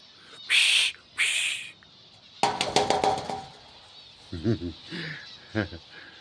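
Many birds in a large aviary let out two loud, shrill squawking bursts up close, then a person talks while scattered calls continue in the background.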